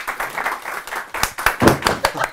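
A short burst of scattered hand clapping during a Turkish talk show, several uneven claps rising toward the end, fairly close and moderately loud.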